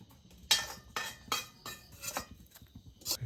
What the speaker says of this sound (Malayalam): എള്ളും നമുക്കിട്ടൊന്ന് ഇളക്കി കൊടുക്കാം.